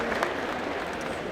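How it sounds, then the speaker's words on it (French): At a geek convention cosplay contest, a crowd breaks into a brief, dense burst of applause, a continuous roar of clapping heard up close. "On l'applaudit très fort, elle a un job pas facile."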